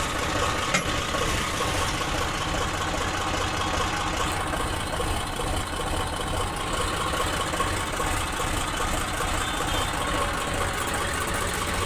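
A tractor engine idles steadily at a market yard beside a highway, a continuous low, knocking rumble heard up close and fairly loud, with no voices.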